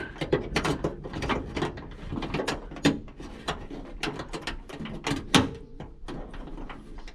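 A plastic locking clip snapping onto the gasket of a Ford exterior door handle: a series of sharp, close clicks and small plastic rattles, irregular and fairly quiet, with brief handling noise between them.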